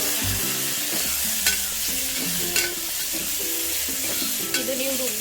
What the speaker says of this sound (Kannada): ಇವಾಗ ಇದು ಚೆನ್ನಾಗಿ ಫ್ರೈ ಆಗಬೇಕು